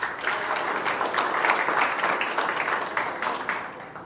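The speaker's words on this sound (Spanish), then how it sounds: "Aplauso." A group at a workplace safety and health training session applauds, with steady, close, crowded clapping continuing evenly for about four seconds without speech.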